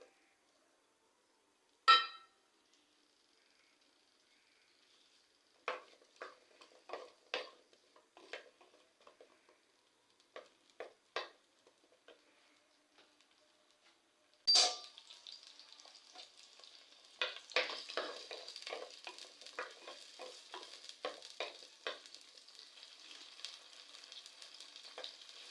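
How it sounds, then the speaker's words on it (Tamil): Onions fry in hot oil in a clay pot for a Tamil broad beans curry. A sharp clink sounds early on, then a louder sizzle begins mid-way and spreads into steady crackling, with scattered stirring clinks. "ஒரு 5 நிமிஷம் இந்த வெங்காயம் நல்லா பொன்னிறமாக வரைக்கும் வணக்கணும்"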